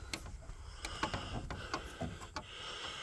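Door handle being slid out of a 1969 Volkswagen Beetle door, a series of faint close clicks and scrapes of metal against weather stripping, irregularly spaced.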